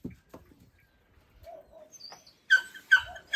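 An abandoned puppy whimpers in a few soft, brief cries that turn into sharper, louder high-pitched whines toward the end, with quiet gaps between them.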